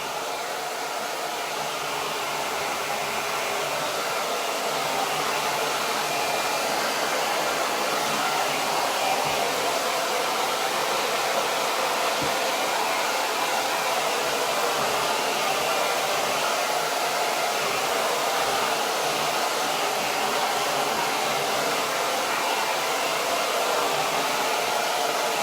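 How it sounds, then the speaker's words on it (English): A handheld hairdryer blows on freshly brushed chalk mineral paint, a constant whirring hiss of motor and air that holds at an even level for the whole stretch, with no talking over it. "I really hate using a hairdryer on live, but I've got to do it for this one."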